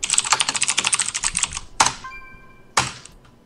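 Rapid typing on a computer keyboard with dense, close keystroke clatter, then a pause and a couple of heavier isolated key strikes.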